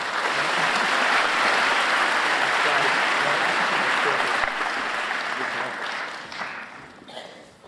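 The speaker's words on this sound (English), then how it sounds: "Let's give him another round of applause" An auditorium audience at a university convocation breaks into sustained applause, a dense wash of clapping that holds steady and then gradually fades out.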